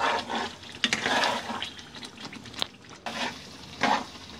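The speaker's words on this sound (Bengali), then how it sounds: "এখন আমি নাড়ছি" Boneless chicken chaap stirred in a pan, giving a wet, bubbling sizzle with intermittent scrapes and clatters of the spoon against the pan, close and moderately loud, no talk.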